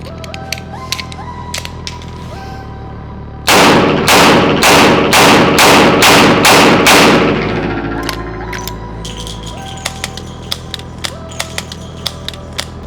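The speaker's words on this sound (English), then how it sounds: "I'm gonna start with an empty gun and then I'm gonna do a reload" Revolver being emptied and reloaded: a quick run of seven loud, evenly spaced mechanical clacks as the cylinder is handled, surrounded by lighter clicks and small metallic ticks from the wheel gun, close up with no talk.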